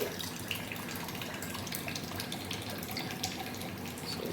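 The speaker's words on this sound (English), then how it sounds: "I am collecting this tap water in one glass." Tap water runs steadily into a glass, a continuous close splashing hiss that holds level throughout with no talk over it.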